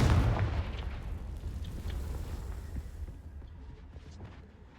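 A Confringo explosive spell blast in a Harry Potter video game sounds as a heavy, booming burst at the start, then a rumbling roar that slowly fades, with a small pop at the end.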